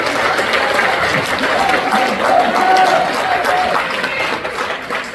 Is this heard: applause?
yes